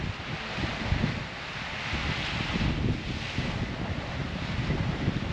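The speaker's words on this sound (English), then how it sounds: "I hope this wind's not playing too much havoc with the mics." Wind buffets the camera microphone outdoors during an easterly fishing session, a steady low rumbling roar with gusty swells and no speech.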